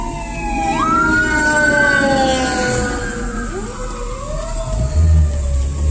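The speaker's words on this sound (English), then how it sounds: "that's the 3rd ambulance and fire truck" A fire truck siren wails and sweeps in pitch as the vehicle passes along a city street near Clearwater Beach, Florida, loud and continuous over road and engine rumble heard from inside a car.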